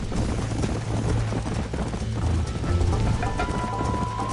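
Horse hoofbeats galloping in the Red Dead Redemption video game, a continuous fast, heavy clip-clop rhythm under a dense layer of background game sound, close and loud throughout.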